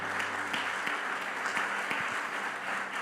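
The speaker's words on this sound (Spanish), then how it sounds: "Denle un fuerte aplauso al Señor." Church congregation applauding, a steady dense wash of many hands clapping throughout with a few sharper claps standing out, fairly distant and evenly sustained.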